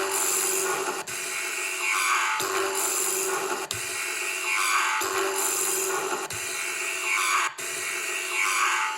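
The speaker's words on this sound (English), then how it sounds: "This is a lathe, I think." A wood lathe cuts timber with a continuous, close, gritty rasping roar, broken by brief dips at regular intervals of just over a second, with no voices.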